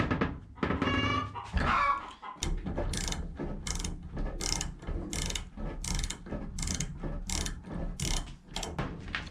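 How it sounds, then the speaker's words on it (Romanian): A ratchet wrench loosens a bolt on a bicycle fork, giving a close, steady series of rapid metallic clicks that repeat in regular strokes after a brief initial rattle. "Asta este șurubul de care vă spuneam. Și mai este unul și pe partea cealaltă. Să desfac acum."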